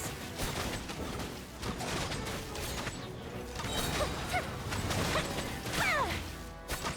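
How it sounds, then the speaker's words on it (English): Fireworks bursting during the final event battle in Genshin Impact, a busy run of crackling bangs and thumps layered over game music and effects, with occasional whistling rising streaks near the end. "Here come the fireworks."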